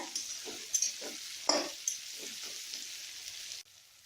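Crushed garlic frying in a pan over medium-high heat, a bright steady sizzle with a few soft stirring scrapes and clicks, close up, cutting off sharply near the end.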